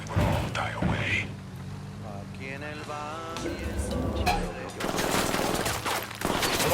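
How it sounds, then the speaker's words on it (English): Gunfire in Ghost Recon Wildlands, a video game: a rattle of bursts and sharp shots over ongoing game noise, with a voice speaking in the middle and a loud final burst. "I'm opening fire on these shitheads."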